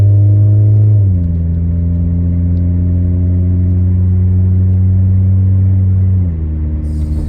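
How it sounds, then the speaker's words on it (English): Steady low exhaust rumble from a 1989 Honda Civic sedan on an aftermarket exhaust while driving, a smooth constant drone that shifts pitch slightly as the car changes speed, near and continuous with no talk. "We're gonna go get some coffee and see what this exhaust sounds like."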